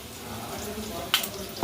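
Two spoons of ginger garlic paste sizzling in a pan for chicken curry, a steady crackling fry with a couple of brief louder spits and stirring clinks near the end, a faint voice underneath.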